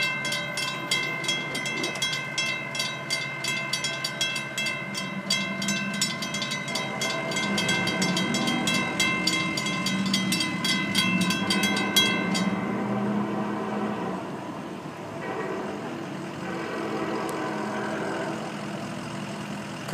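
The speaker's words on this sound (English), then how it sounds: "The engines are roaring as they try to pull this train back up to speed." Diesel locomotives pulling FEC train 101 roar as they accelerate back up to speed in crisp, cold air. A loud, steady engine drone runs with rapid clattering rail noise early on, and the clatter fades while the rumble continues.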